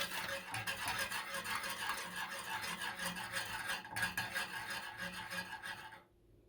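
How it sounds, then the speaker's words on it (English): Knorr hollandaise sauce is whisked constantly in a pot over medium heat, a steady rapid scraping rasp that runs without a break, then stops abruptly near the end. "it says whisk constantly, so you're constantly stirring it"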